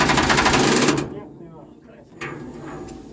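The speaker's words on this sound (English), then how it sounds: "change tools and put the air impact gun on and buzz the nut off." An air impact gun rattling a nut off a steam locomotive in a workshop, a loud rapid hammering burst for about a second, then quieter clanks and a second brief tool noise.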